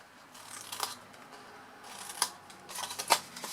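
Scissors snip the corners of a card gift box lid into wedges, making several quiet, close crisp cuts in an irregular rhythm.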